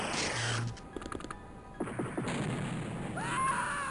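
A grenade goes off in the X-COM: Terror From The Deep video game, a burst of crunchy blast debris with a rumbling tail, followed by a rising synthetic whoosh near the end.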